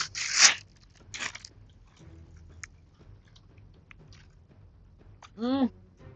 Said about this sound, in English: Sweet crunchy balls with pistachio.